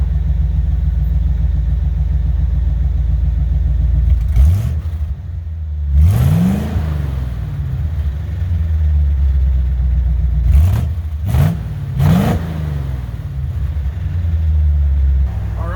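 An old truck drives off down a road at night, its engine a loud, close, continuous rumble that revs and climbs through several gear changes, with no one speaking.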